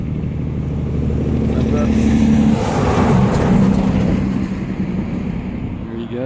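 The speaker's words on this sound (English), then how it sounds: "Here comes a big truck." A big truck passes on a country road near a cyclist, an engine rumble that swells to a peak midway and then fades as it goes by. Someone speaks briefly over it.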